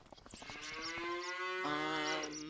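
Cattle moo in the Farming Simulator 25 video game, two long drawn-out bellows one after the other, loud and close, with no talk over them.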